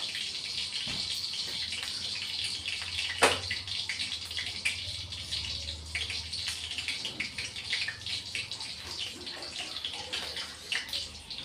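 Hot water poured off from a pot while cooking pabda fish curry, a steady hissing, gushing pour lasting throughout at moderate closeness, with a brief splash near the start and no talk.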